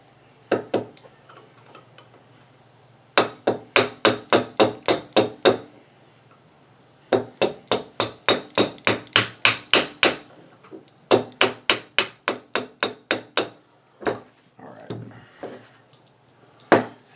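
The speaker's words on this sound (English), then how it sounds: "So let's give it a little tap." Rapid bursts of sharp metallic hammer taps knock out a pin on a Ruger New Model Blackhawk revolver, close and crisp, arriving in four runs of roughly eight to twelve evenly spaced strikes separated by short pauses, with faint handling noise after.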